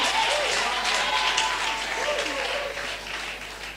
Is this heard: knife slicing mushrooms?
no